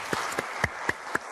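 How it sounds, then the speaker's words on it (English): A short burst of audience applause at a creativity talk, a handful of distinct claps landing at an even rhythm, fairly close and moderately loud. "So please give them a round of applause."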